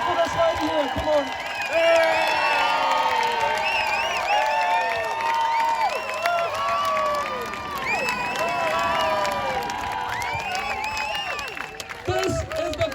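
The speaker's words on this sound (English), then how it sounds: "Big round of applause for this lady here" At a liberty march in Auckland, a large outdoor crowd cheers, whoops and claps continuously, with many overlapping shouts and voices close and far.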